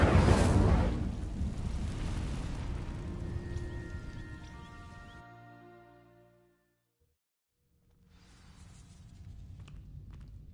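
Incendio fire spell igniting dry vines in Hogwarts Legacy: a loud whooshing burst of flame that roars broadly, then crackles and fades into silence before a low ambient rumble returns.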